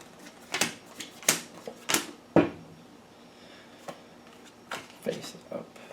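Magical Spell tarot-style cards laid out one by one on a table, giving a series of sharp, close snaps and slaps spaced about half a second apart, then sparser light taps, with quiet talk in between.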